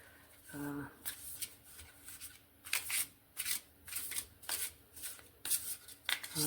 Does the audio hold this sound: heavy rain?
no